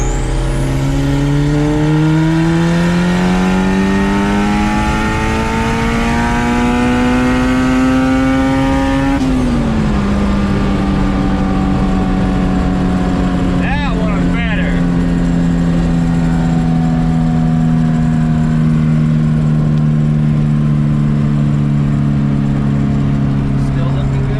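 A red Honda Civic hatchback running higher turbo boost pulls hard, its engine note climbing steadily, dipping at a gear change near the middle, then rising again, loud and close throughout.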